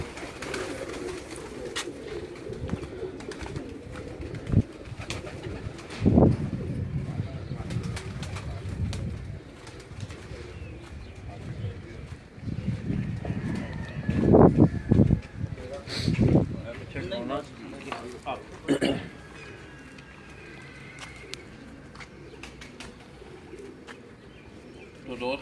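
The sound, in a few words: pigeons cooing on a rooftop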